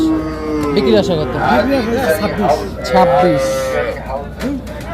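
Cattle at a village livestock market, including a young crossbred calf, low and close, moo repeatedly in drawn-out calls that overlap one another, while people talk nearby.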